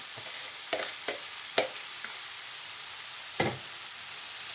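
Onion and carrot frying in a pan with a steady, soft sizzle, broken by several distinct scraping stirs of a utensil against the pan; no voices.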